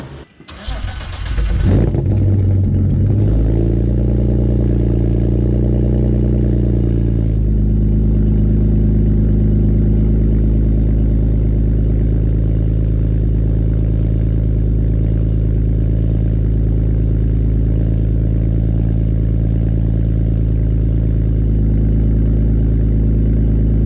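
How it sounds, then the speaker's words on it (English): A BMW engine starts cold with a brief cranking whir and catch, then settles into a loud, steady, close idle with a deep even drone that carries on unbroken. "Just gave y'all a cold start of the Beamer"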